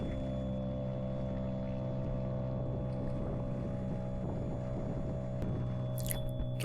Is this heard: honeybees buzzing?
no